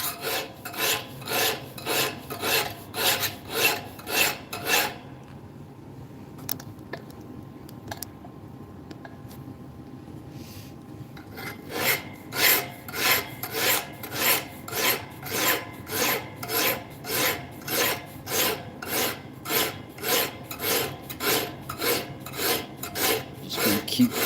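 Hand filing a knife bevel: steady, rhythmic rasping strokes roughly two per second, close and clear, pausing for several seconds midway before the strokes resume at the same pace.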